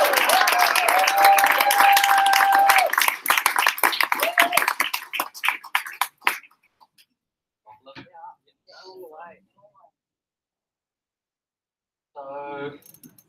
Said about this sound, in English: big round of applause for Andrew and Tina.